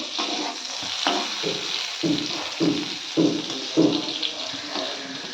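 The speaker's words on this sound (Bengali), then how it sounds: "এখানে বেগুনটা ভাজছি" Eggplant slices frying in hot oil in a pan, a steady close sizzle with repeated scraping and turning strokes roughly every half second, no voices over it.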